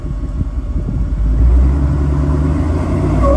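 A leaf-sprung rock crawler's engine idles with a low rumble and is then given a little throttle, the growl swelling and holding steady, close by and alone.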